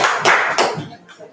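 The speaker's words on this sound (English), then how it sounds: "so clap your hands" A few people clap hands in a group setting, with about three separate bursts of claps, moderately loud and close, fading toward the end.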